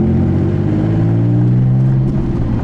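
A TVR Sagaris sports car, built 2005–2006 and derived from the T350C, revs loudly with blips on the downshifts, a steady close engine drone swelling and dipping with no voices over it.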